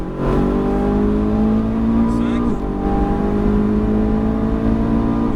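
A Ferrari 458 Italia engine revs hard and climbs in pitch as it accelerates on a race circuit, loud and close, with a brief dip partway through before the revs build again.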